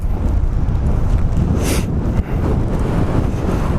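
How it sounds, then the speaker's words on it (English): Strong wind buffets the microphone outdoors at a fishing spot, a steady loud roar with constant low rumble and no voices. "It's hard to fish out here in all this wind,"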